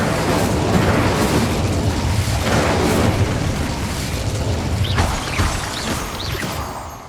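Repeated Incendio fire spell casts in the Hogwarts Legacy video game, loud booming bursts of flame with crackling crashes that recur every second or so over a continuous rumble, with no voices.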